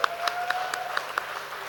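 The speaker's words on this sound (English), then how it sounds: "Give a big round of applause for yourself." Short burst of scattered hand clapping from an audience at a Toastmasters event in Indore, a few distinct claps at an even pace over a low steady hum.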